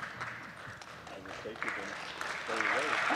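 An audience at a space entrepreneurship conference panel breaks into applause, a soft patter of clapping that swells toward the end while people keep talking over it.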